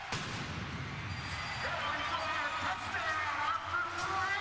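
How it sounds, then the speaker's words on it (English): A loud cannon blast fires at an Austin Wranglers arena football game after a touchdown, followed by a roaring indoor crowd and an announcer talking throughout. "they upgraded the cannon. It's pretty loud."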